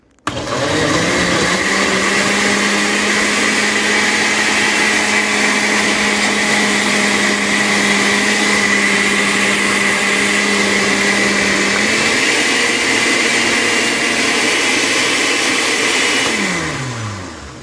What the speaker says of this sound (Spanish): llevamos a la licuadora